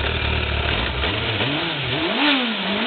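Suzuki Bandit motorcycle engine revving up and settling in rising and falling pitch sweeps over a steady loud mechanical roar, close by with no talking.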